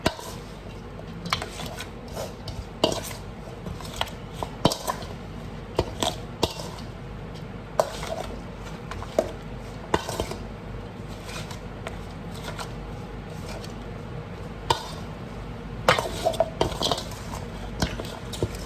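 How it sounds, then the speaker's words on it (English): A spoon stirs seasoning into raw oxtail in a bowl, giving repeated wet squelches and scraping knocks in an irregular rhythm throughout. "So I'm just gonna use a spoon and I'm gonna stir this in together."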